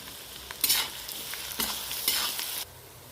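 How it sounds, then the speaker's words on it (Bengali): Onions frying in oil with salt, dried red chili and bay leaf, heard as a soft steady sizzle broken by a few louder stirring scrapes that swell and fade, close-up and without talking. "এবার পেঁয়াজ দিয়ে দেবো, পরিমাণ মতো নুন দিয়ে দেবো, দিয়ে লাল লাল করে ভেজে নেব"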